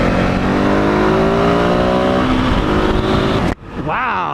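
A 2021 KTM 690 Enduro single-cylinder motorcycle accelerates hard off-road near Moab, its loud engine note climbing steadily through the gears, then briefly dipping and revving up again.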